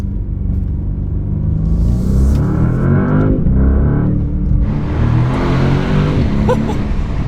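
A Porsche Panamera Turbo E-Hybrid engine roars and builds with a deep, continuous rumble, revving hard under acceleration, loud and close throughout.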